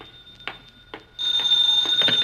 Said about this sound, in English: Now the phone.